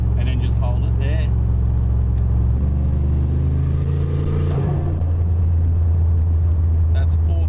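Turbocharged LS-engined car pulling hard in 4th gear, a loud, deep interior engine drone climbing in pitch with turbo flutter near the shift point, heard from inside the cabin as people talk over it.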